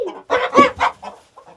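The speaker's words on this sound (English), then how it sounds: "Oh, the rooster just went." A rooster crows nearby, a loud, clear multi-part call that trails off into softer notes, with no voices over it.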